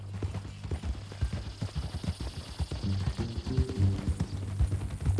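Horse hooves clip-clop steadily across ground in the Red Dead Redemption 2 game world, a close, continuous rhythmic trot under low background music and ambience, with no voices.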